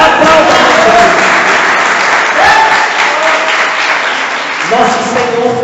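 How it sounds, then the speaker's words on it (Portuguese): Catholic congregation applauding during a sermon, loud continuous clapping filling the room with a few brief cheering voices rising over it. "Aplauda ela, aplauda ela."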